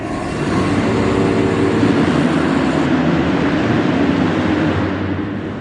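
Kawasaki dirt bikes launch off the start line at an indoor arenacross race, a loud sustained engine roar swelling and then fading slightly as they pull away, with no talk over it.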